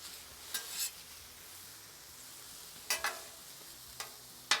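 Steak meat frying in a pan for a Philly cheesesteak, a faint steady sizzle with a few brief scraping stirs of a utensil against the pan.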